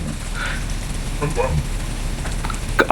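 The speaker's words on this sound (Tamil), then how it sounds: "வெங்காயம் கட் பண்ணி வச்சுருக்க வெங்காயத்தை அதில் போட்டு நல்லா வதக்கணும்." Chopped onions fry in hot oil for biryani, giving a steady close sizzle throughout with a few faint scraping stirs on top.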